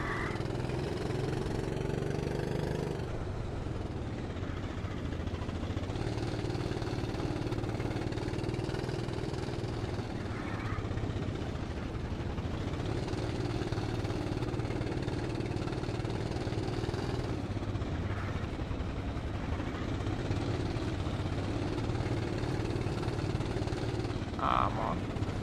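An engine revs in a video game, a continuous mid-pitched drone that shifts up and down in pitch every few seconds and stays steady and prominent throughout.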